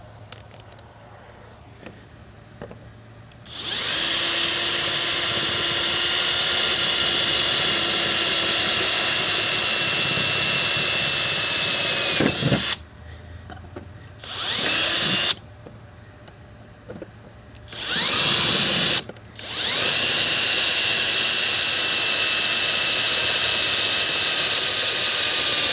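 Power drill with a 1/8 inch bit drilling holes for a trailer plug relocation kit on a Next Gen Ranger Raptor, a loud steady whine running in several long bursts separated by brief pauses.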